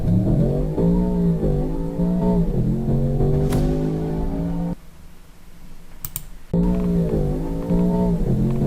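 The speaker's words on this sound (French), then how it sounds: "On va se voir une petite accélération pour voir un peu ce que ça rend." Range Rover Sport SV Edition One SUV accelerating hard, a loud engine note climbing in pitch through several gear shifts, dropping briefly to a quieter rumble before surging again, with sharp clicks in between.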